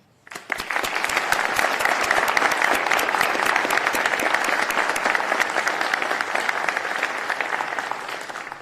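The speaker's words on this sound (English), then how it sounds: "I just want to give a round of applause to the families" An audience at a police chief's swearing-in ceremony claps loudly and steadily for several seconds, a dense sustained burst of many hands that fades slightly toward the end.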